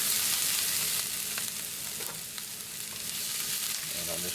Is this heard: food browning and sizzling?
yes